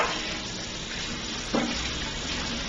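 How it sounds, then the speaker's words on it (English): Green beans blanching in a pot of boiling water, a steady low bubbling hiss that holds evenly throughout, with a brief clink partway through and no talking. "So beans are boiling."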